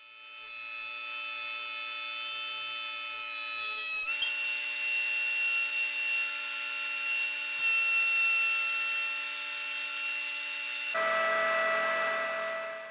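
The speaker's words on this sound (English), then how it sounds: "I'm running them through the jointer first because I want to flatten one face" Wooden boards run through a woodworking jointer for cabinet making, a loud, steady high-pitched machine whine with the cutter biting the wood, close by and sustained, shifting tone as the workpiece feeds through and ends.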